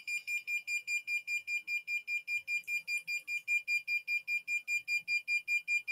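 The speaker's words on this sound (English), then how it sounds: "it detected the flame and it start again the sound." A fire alarm system sounds after its flame detector is triggered, giving a fast, steady train of high-pitched electronic beeps pulsing several times per second, clear and continuous with no talking.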